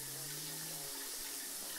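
A shower runs as a steady, dense rush of falling water, like a small waterfall, close and continuous throughout, with a low tonal hum in the first half.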